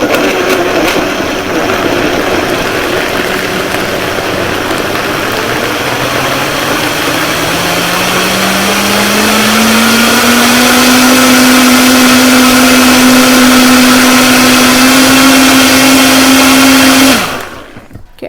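Blender pureeing mango with milk, a loud continuous motor whir whose pitch slowly rises as the mixture smooths out, then cuts off abruptly at the end.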